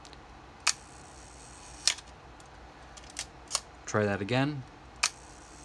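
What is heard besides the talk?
Nikon F Photomic camera shutter firing at 1 second speed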